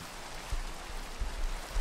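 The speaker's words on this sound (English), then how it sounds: "It's been raining all night." Rain falls steadily in the Minecraft video game, a soft, even hiss with a few low thumps that rise briefly, heard on its own without voices.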